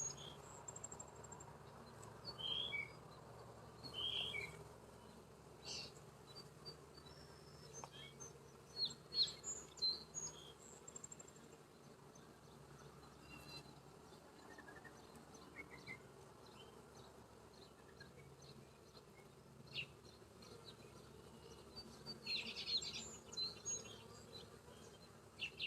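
Honey bees drone steadily around an open hive during a farm inspection, a continuous low buzz with occasional louder passes of individual bees close by and faint birdsong far off.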